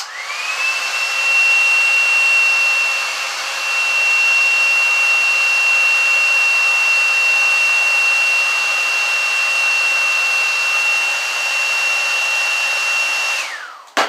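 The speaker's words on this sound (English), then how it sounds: "I hold the hair dryer away from my eye" A hair dryer runs loud and steady for a long stretch with a constant high whine, then clicks off at the end.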